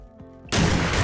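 In the 7 Days To Die medieval mod, a short low rumble gives way to a sudden loud, harsh burst of in-game gunfire that holds as a dense roar to the end.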